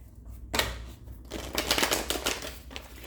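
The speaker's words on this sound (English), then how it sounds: "I always shuffle these cards off camera, but I just shuffle them, so y'all can hear." A deck of tarot cards is shuffled by hand in a quiet room, giving a close, steady riffling and flicking texture over about three seconds, with no talking.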